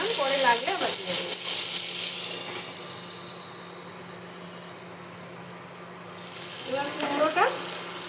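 Potatoes and green chillies with salt frying in a pan for kalmi shak charchari, a steady soft sizzle with a brief stirring clatter, while someone speaks briefly at the start and end.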